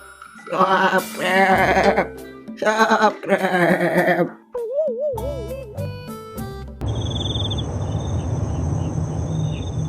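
A goat in an animated children's film gives several strained, harmonic bleats in quick succession, then gives way to a steady bed of chirping crickets and insect noise.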